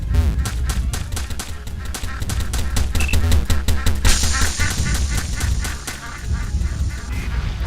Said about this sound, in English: You will find that strange ducks reside here